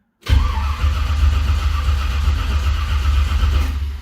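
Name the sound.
truck engine turning over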